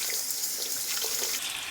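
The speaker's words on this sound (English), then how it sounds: "So we use water to rinse off the soap." Water runs steadily from a tap while soap is rinsed off hands at a sink, a continuous close splashing hiss with no pauses.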